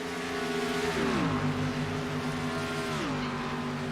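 Stock-style race cars, a #73 Ford Fusion and a #31 Chevy, roar past nearly nose to tail, loud engine tones sliding down in pitch one after another as each car goes by.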